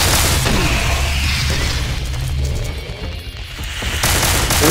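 Gunfire from a designated marksman rifle in Brutal Doom Project Brutality 3.0, a dense run of loud booming shots and explosive bursts with heavy low rumble that dips briefly mid-clip before swelling again.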